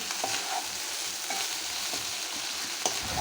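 Continuous sizzling with scraping and stirring of beef fried rice with spring onion and coriander in a hot pan, steady and close, with occasional clinks of a utensil.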